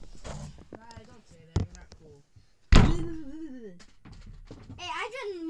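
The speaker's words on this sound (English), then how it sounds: "You're banging on the door." Heavy thuds bang on a door, one sharp knock followed by a louder slam-like hit, mixed with children's excited chatter and giggling close by.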